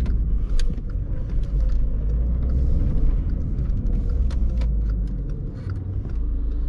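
A VW Polo 1.6 TDI diesel with a DSG gearbox pulls on an extra-urban road, a close, low engine rumble droning steadily with road noise throughout.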